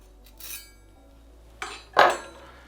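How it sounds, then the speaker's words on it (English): A metal spring pulled off a Hawthorn cocktail strainer and dropped into a shaker, giving a few sharp metallic clinks and rattles, the loudest near the end, in an otherwise quiet kitchen. "If you take the spring off"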